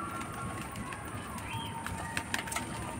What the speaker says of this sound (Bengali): দেখে নাও অ্যান্টোনাতে সব পায়রা লেগে পড়েছে দেখো।